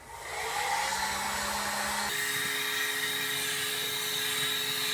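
A heat gun blows a steady, loud whirring hiss while warming a Jeep metal panel for adhesive, its tone shifting once partway through as the airflow changes, with no talking.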